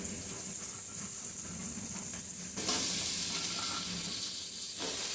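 Dudh kochu taro stems drop into sizzling masala in a pan. A steady fry hiss jumps to a louder, brighter sizzle partway through, then settles back.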